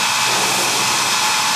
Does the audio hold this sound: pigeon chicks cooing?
no